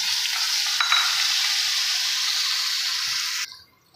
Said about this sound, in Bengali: এবার আলুটা ফ্রাই করবো।